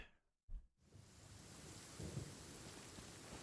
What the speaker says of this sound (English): It just had to rain at one of the best times ever.